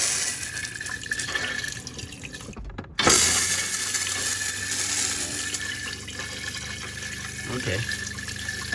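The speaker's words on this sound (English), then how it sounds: "Let's give her a flush." A toilet in a 2022 Winnebago Travato 59KL RV is flushed after baking soda was added, giving a sudden loud rush of water that keeps running and gurgling, with people talking before and during.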